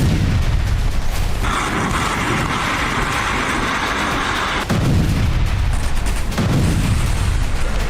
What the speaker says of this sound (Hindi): रूसी सेना ने T-80 टैंक से विध्वंसक हमले कर यूक्रेन के 3 सैन्य वाहनों को तबाह कर